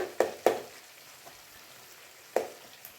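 Tomatoes for pepper chicken gravy cook in a pan with a quiet background sizzle, broken by three sharp stirring clacks of a spoon against the pan, two close together and one later.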